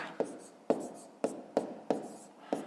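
A pen or pencil writes numbers by hand on paper in a maths exercise, giving six distinct scratchy strokes at a fairly even rhythm. The strokes are close and quiet, and no one speaks.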